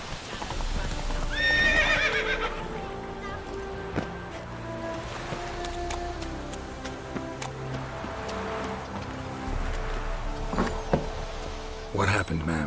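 Geralt's horse Roach in The Witcher 3 clops along on hooves with rhythmic, close footfalls and lets out a whinny, over a busy game soundscape.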